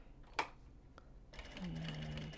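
A sewing machine back-stitches while a knot bag is being sewn, starting after a faint click and then running as a quiet, fast whirring stitch close by for about a second.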